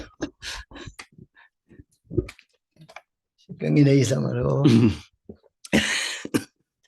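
A few sharp coughs and throat sounds break up the quiet, followed by a longer voiced stretch and another loud burst near the end.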